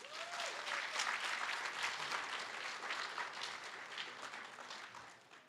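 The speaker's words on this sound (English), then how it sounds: "give a round of applause to all those who've come out to" Commencement crowd at a college graduation ceremony gives sustained applause, a broad, even roar of many hands clapping in a large space that holds steady and then tapers off at the end.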